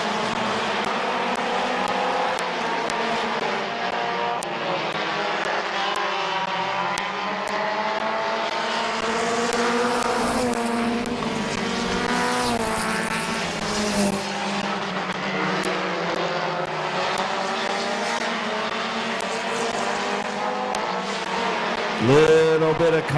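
Compact heat race cars circle Midvale Speedway in a steady, continuous engine roar that rises and falls as the pack passes, loud and sustained throughout with a sharper burst near the end.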